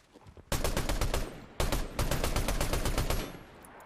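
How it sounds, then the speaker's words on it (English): Rapid gunfire in the video game Fortnite comes in two loud bursts of quick, evenly spaced shots, the second burst longer, with no talk over it. "None of the shots are landing there."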